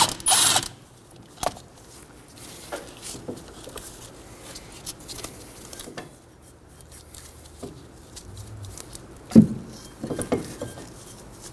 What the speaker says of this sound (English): Using a 14mm, I'm going to remove one of our slide pin bolts.